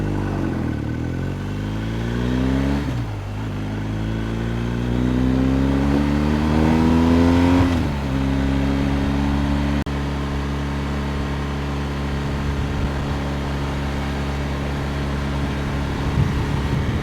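A BMW R1250GS boxer-twin motorcycle engine with an aftermarket flash tune is revved up and down by hand. Its tone rises through several sweeps, then settles into a steady, close idle.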